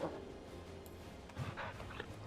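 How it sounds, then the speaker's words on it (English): A dog companion in the online game Final Fantasy XIV gives soft whimpering yips and panting, faint and close, set over steady game background music. "Yes, the Final Fantasy 16 dog."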